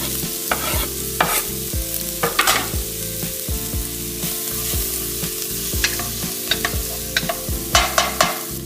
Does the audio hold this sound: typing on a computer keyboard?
no